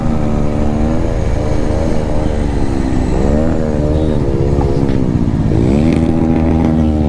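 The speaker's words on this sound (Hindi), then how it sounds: "ये भाई ये थ्रॉटल इसने पूरा खींच रखा है" A Bajaj NS400 motorcycle fitted with an SC Project exhaust revs hard at full throttle, a loud, continuous raspy engine roar rising and falling in pitch through several rev sweeps, close by and unbroken.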